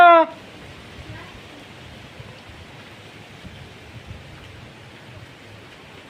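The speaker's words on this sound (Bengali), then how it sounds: "এত জোরে ঝড় উঠেছে গাইস, তোমার কি বলবো, প্রচণ্ড ঝড় হয়েছে" A heavy storm with rain: a steady, moderately loud hiss of falling rain with faint scattered patter, after a brief voice at the very start.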